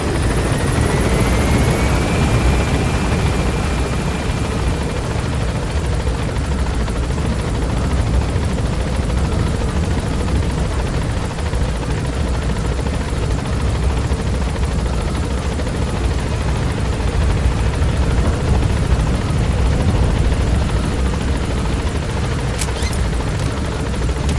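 A helicopter in the video game Metal Gear Solid V gains altitude, its rotor and engine roaring loud and continuous throughout, steady and close with no pauses.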